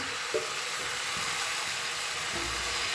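Thick uttapa batter poured onto a hot pan, giving a steady bright hissing sizzle that fills the whole clip, close and even, with a couple of faint low knocks underneath.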